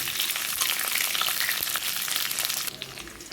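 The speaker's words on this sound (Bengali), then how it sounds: "আলুগুলোকে লাল লাল করে ভালো করে ভেজে নেব" Potatoes frying in a pan with browned onions for chicken curry, an even, close hiss of sizzling oil with light stirring that drops noticeably quieter near the end, no speech.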